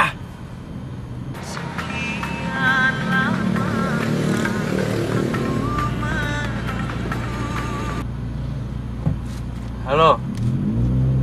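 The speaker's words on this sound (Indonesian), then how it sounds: "Kenapa hari ini mesti macet?" Traffic noise in a jammed street, with a steady car engine hum and occasional motorcycle revving close by, while people talk over it and a brief horn-like tone sounds near the end.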